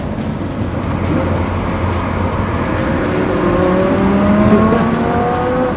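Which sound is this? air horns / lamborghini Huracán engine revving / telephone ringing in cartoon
lamborghini Huracán engine revving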